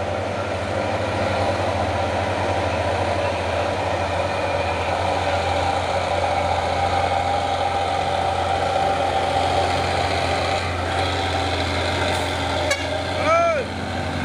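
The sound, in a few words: Hino dump truck engine idling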